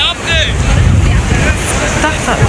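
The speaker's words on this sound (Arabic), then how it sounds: "الموج بصوا لما بيخبط في الصخر بيبقى عامل ازاي" Sea waves break against rocks on a windy shore, a loud continuous surge of surf churning throughout, with strong wind buffeting and a voice speaking briefly.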